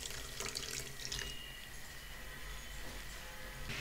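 Water pouring into sugar in a pan on a stove for a watermelon sweet, a continuous faint splashing stream lasting the whole short stretch with no talking.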